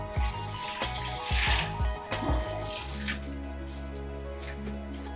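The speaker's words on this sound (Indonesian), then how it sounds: "Dan ini saya menyiram berasnya dengan menggunakan air galon." Gallon-jug water is poured over soaked glutinous rice, splashing with wet clattering and dripping, then settles into a steady trickling flow.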